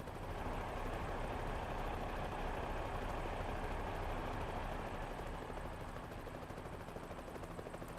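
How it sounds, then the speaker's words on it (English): A helicopter drones overhead in American Truck Simulator, a steady rumbling thrum with faint rotor chop, continuous and fairly quiet throughout. "I hear the helicopter, but I don't see it. Sounds like it's right above me."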